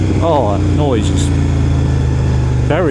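Kove 800X Pro motorcycle engine running on the road behind a car, a loud, steady rumble with several rising revs, close by under a rider's voice.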